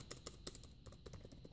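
Quick, light keystrokes on the keyboard of an Asus ZenBook UX305 laptop, an irregular patter of soft clicks heard close and quietly with no talking.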